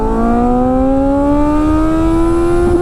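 A Kawasaki Z900 motorcycle pulls hard in first gear, its engine note climbing steadily and loudly in one continuous rising whine with rich harmonics, close to the rider and with no talking.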